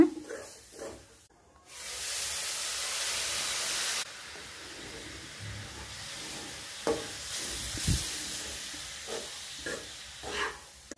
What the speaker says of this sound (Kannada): ಸ್ವಲ್ಪ ಸೇರಿಸ್ಕೊಂಡು ಮಿಕ್ಸ್ ಮಾಡ್ತಾ ಹೋಗೋಣ.